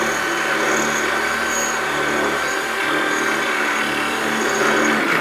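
A regular drill bit grinds steadily into rusted-through spot welds on the door bottom of a Chevrolet C10 truck, a continuous loud metallic whine and scrape close by with no pauses.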